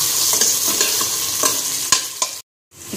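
Ginger and garlic fry in a hot tempering (baghar) for sambhar, giving a loud, close, crackling sizzle with stirring scrapes, a brief silent break near the end, then sizzling again.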